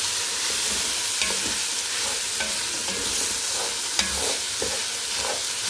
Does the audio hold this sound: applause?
no